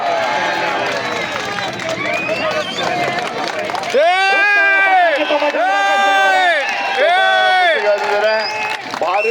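Crowd noise at a kushti wrestling bout: a steady roar of spectators, then loud, drawn-out shouts and whoops that swell over the din in the second half.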